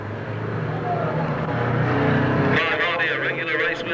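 Crazy cars racing at Long Eaton stadium, loud roaring engines revving and passing close, with rising and falling pitch as cars go by, under a commentator's continuous talk.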